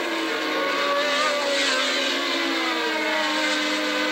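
Formula 1 race cars at the 1981 Austrian Grand Prix in Spielberg scream past, loud high-pitched engine whine with shifting harmonic tones, sustained and steady throughout.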